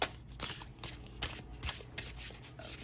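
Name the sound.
shuffling tarot cards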